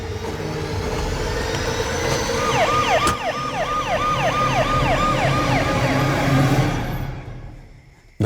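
An ambulance siren wails in a loud, repeating up-and-down pattern that sweeps steadily for several seconds over a rumbling background, then fades away toward the end.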